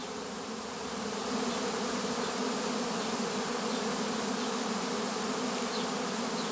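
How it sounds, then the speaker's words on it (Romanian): A thick drone of swarming honeybees buzzing, steady and loud after a slightly softer start, with no talking. "Foarte, foarte multă albină."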